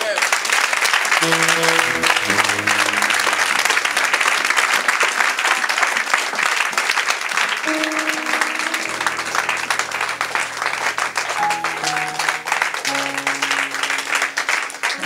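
A church congregation applauds continuously for about fifteen seconds during a worship service, with a dense steady wash of clapping over sustained keyboard or organ chords.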